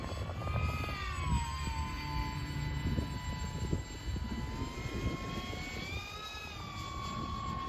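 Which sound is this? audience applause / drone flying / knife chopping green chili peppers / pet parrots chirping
drone flying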